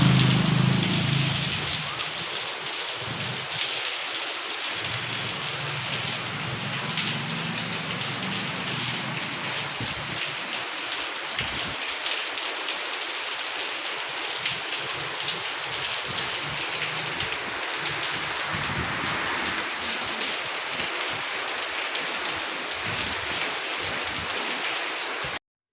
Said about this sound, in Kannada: ಇಲ್ಲಿ ಮಳೆ ಬರ್ಲಾಗತ್ತದ